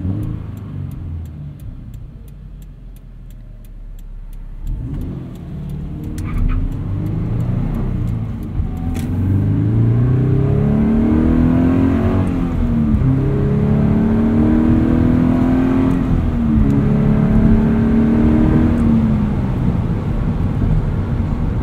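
A car engine revs up and down several times during rev-matched heel-and-toe downshifts, pitch rising and falling between gear changes, loud and close over a steady driving rumble.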